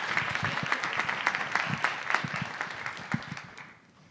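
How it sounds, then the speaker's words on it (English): A conference audience at a family-focused event claps in a steady wash of applause that fades out over about four seconds, moderately distant and even. "Give them a round of applause."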